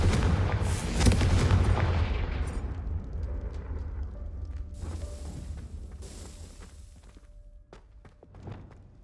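Confringo spell explosion in Hogwarts Legacy, a loud booming blast with rumbling debris that slowly decays into creaks and scattered clatter.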